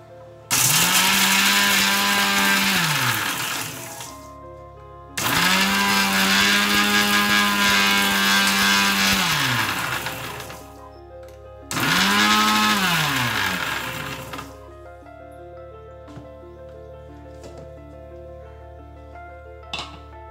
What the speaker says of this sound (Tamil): முட்டை ஓட்ட அரைச்ச மாதிரியே வாழைப்பழத்தோலையும் நம்ம அரைச்சிக்கலாம்.